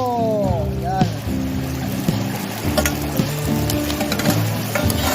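Fern shoots sauté with aromatics in a pan, a sizzling fry with stirring clatter and utensil knocks, close by, with a low hum and tonal sounds underneath.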